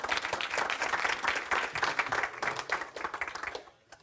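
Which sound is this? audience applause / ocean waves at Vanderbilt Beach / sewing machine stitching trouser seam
audience applause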